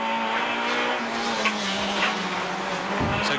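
A 1800cc Honda touring car races by at speed on a Wellington street circuit, its engine a loud steady drone with shifting pitch and a faint tire squeal.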